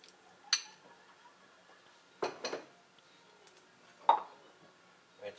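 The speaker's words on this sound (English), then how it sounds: "give your pesto a little stir around" A spoon stirs homemade pesto in a bowl in a home kitchen, giving a few quiet, sparse clinks and taps of metal against the dish with long near-silent gaps.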